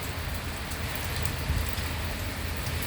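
Steady rain falls in a backyard in windy weather, a dense, continuous hiss with a low rumble of wind underneath, holding even for the whole stretch with no voices.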